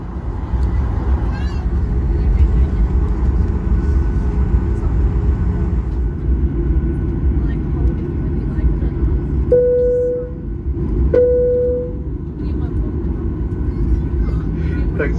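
Virgin Australia Boeing 737 airliner taking off, heard from inside the cabin as a loud, steady engine roar and rumble, with two brief cabin chimes near the end.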